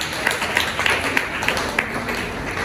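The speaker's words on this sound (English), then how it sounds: "Please give him a round of applause." An audience applauds at a university library week celebration, a short burst of dense, steady clapping from a crowd filling the room.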